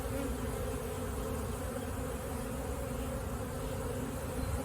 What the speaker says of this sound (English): A worker bee came out.